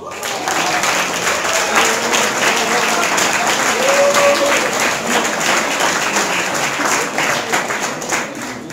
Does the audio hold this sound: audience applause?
yes